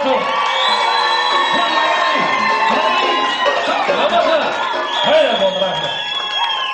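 A crowd at a Kazakh stage show roars for the first pair: sustained cheering, whoops and shouts from many voices, loud and continuous throughout, with little distinct clapping.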